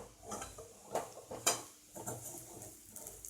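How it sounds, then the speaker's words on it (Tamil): A spoon scrapes and knocks against a pan while raw banana fry is stirred over a low flame, giving a few irregular clinks and soft shuffling scrapes at close range with no voices. "இப்போ அப்படியே கிளறி காமிக்கிறேன் பாருங்கள்"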